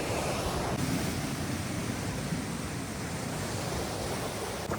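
Atlantic Ocean surf washing onto the shore, a steady broad roar of breaking waves with some wind rumble on the microphone, continuous and fairly loud with no talk.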